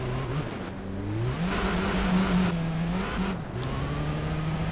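A Ford Focus RS engine revs and shifts through gears while racing in Gran Turismo Concept at Tahiti Maze, its pitch climbing, dipping and climbing again, close and steady with no talk.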